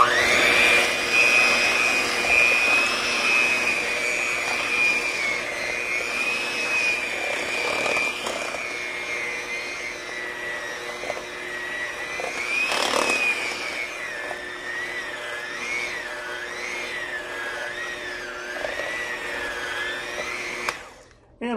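Electric mixer whirring continuously while mixing Cinnabon dough from an old baking kit, a steady close motor whine with shifting pitch and a brief surge midway, stopping abruptly at the end.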